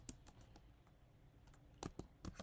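Someone types on a computer keyboard, sparse quiet key clicks with a brief flurry near the end, close and faint with no talk.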